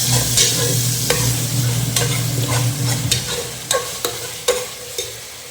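Mutton biryani masala sautés in a pot with a continuous loud sizzle, while a spoon stirs and scrapes with rhythmic metallic knocks against the sides, roughly one every half second to second.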